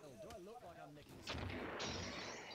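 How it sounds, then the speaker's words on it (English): A grenade blast in the video game Killing Floor, a sudden loud burst with a rumbling tail following a voice, then continuing noisy game effects. "And you just threw a grenade at me."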